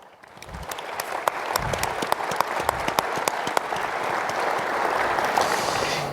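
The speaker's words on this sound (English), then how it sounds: "Would you guys please stand up and have a round of applause?" Guests at a Chicago awards dinner break into applause that swells from a few sharp individual claps into a full, steady ovation filling the room.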